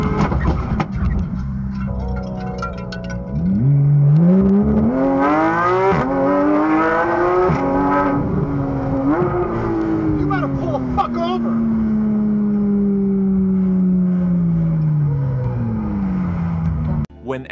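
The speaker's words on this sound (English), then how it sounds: "he drives a Porsche, which means we get to listen to that engine scream" A Porsche in Grand Theft Auto 5 revs hard and loud, its engine note climbing and sliding through gears in a long, continuous scream that rises, holds and slowly falls.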